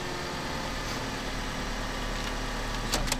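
A car engine idles steadily nearby, a constant low droning hum with a faint rattle, without speech.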